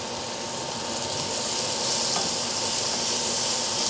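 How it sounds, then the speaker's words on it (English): Bacon frying in a pot gives off a steady, close, loud sizzling hiss that barely changes from start to finish. "Okay, so we got our bacon in the pot."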